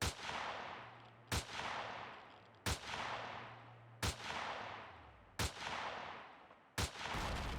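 Six sharp, loud gunshots ring out at steady intervals of about 1.3 seconds, each followed by a long decaying echo, fired at a turret in the space survival game Empyrion Galactic Survival, with a low steady hum underneath.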